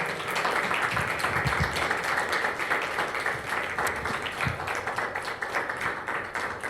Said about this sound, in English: Let's give one more round of applause to our poets